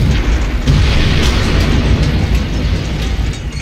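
A heavy gun booms in Garry's Mod, a loud rumbling blast that fills the whole stretch with dense low-end roar and a few sharper cracks on top, with no voices.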